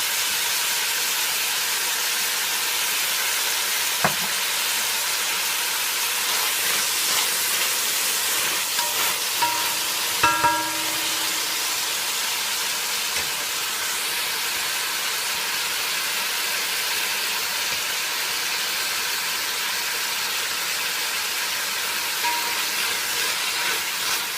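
Onions frying in a pan, a continuous broad hiss of sizzling that stays even throughout, with a brief clatter of utensil movement near the middle and no talking.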